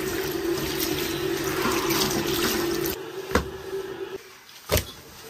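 A kitchen tap runs steadily onto food being rinsed in a sink for about three seconds, then the flow stops and a couple of sharp knocks and handling sounds follow.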